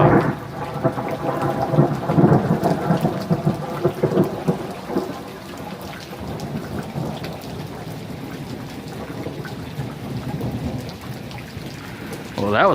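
Thunder rumbles loudly through a storm, long rolling booms over steady rain pattering on surfaces, with a fresh crack rising at the very end.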